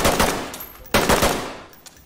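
Two loud bursts of automatic gunfire from the tactical shooter game Ready Or Not crack close up, each a quick rattling volley with a brief ringing tail, followed by a faint click.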